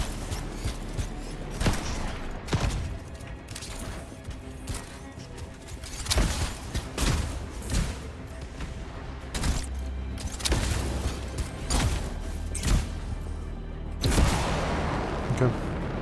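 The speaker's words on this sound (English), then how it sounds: "I love the homing missile." Homing missile launcher fire and repeated explosions in the Anthem video game, a dense, continuous barrage of booms and blasts with periodic sharper bangs throughout, while a player talks over the action.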